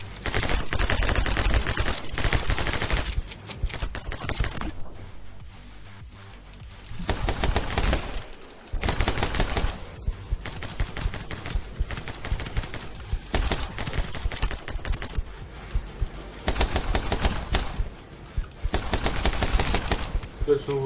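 Gunfire in the video game My Friend Pedro, loud rapid bursts repeating in clusters with brief gaps, and a voice talking between them.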